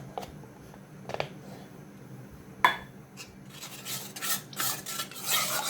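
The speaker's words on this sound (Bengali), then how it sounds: "কাস্টার্ড পাউডার আর দুধটা মিশালাম।" A spoon stirs custard powder into milk in a bowl, making soft scraping and rubbing with occasional clinks against the dish. It starts as quiet scattered taps, then becomes busier, louder swishing toward the end.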